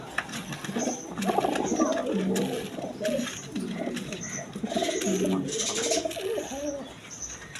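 Pigeons of a breeding pair, the hen sitting on eggs, coo repeatedly in soft rolling phrases, close by and overlapping, with faint chirps and background room noise; no voices.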